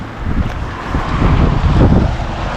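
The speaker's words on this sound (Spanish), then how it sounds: "Una banda de viento, un poquito de viento" Wind blowing by lakes in autumn Canada, a steady rushing gust with microphone buffeting that swells toward the end, loud and close, no voices.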